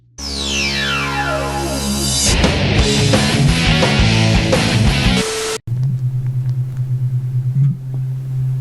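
A loud burst of electronic game sound cuts off, followed by a Mobapad Switch controller's rumble: a steady low vibrating buzz that pulses slightly for a few seconds.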